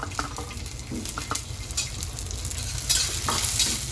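Green chillies, garlic and ginger roasting in a little oil, a close crackling sizzle with brisk stirring and spatters that swell toward the end, no voices.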